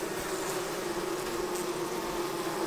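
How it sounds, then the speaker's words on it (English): Honey bees working a frame feeder in a hive, a steady dense buzzing hum close to the microphone, unbroken throughout. "the bees are working that frame feeder"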